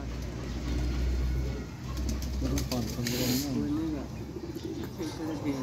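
Rare pigeons coo softly in a loft, with low rolling calls over steady background hum while someone talks throughout.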